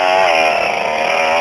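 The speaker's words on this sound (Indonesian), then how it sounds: "Membersihkan lahan cabai ini dengan menggunakan mesin penebas rumput." Petrol brush cutter (grass trimmer) clearing a chili field, a loud, steady high-revving engine whine held continuously and close throughout, with no talk.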